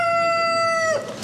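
A chabo bantam rooster crows once at a poultry show, a loud, sustained tonal call lasting about a second before trailing off into hall noise.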